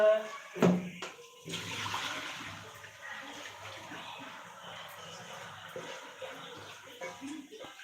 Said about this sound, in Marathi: चला पालक धुवून घेते आता स्वच्छ